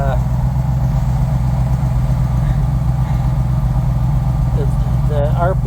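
A Bombardier vehicle's engine idles steadily at 800 RPM with a constant low rumble throughout, while a person talks faintly in the background.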